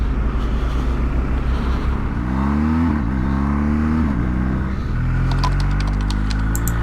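A BMW R1250GS motorcycle engine pulls hard under harsh acceleration, a loud continuous drone with rising and falling harmonic sweeps as revs climb and shift, close and steady throughout with no talk.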